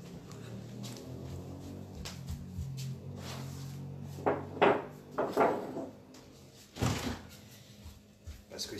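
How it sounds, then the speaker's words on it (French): A door being closed indoors, several wooden knocks and clunks spread over a few seconds, with scattered handling noises between them and no talking. "Je vais fermer la porte."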